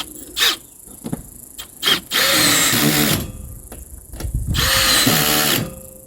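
A power drill drives the 12 mm seat cover bolts on a 2023 Kawasaki Mule, starting with a few short close whirring taps. Two longer loud bursts follow as the bolts tighten down.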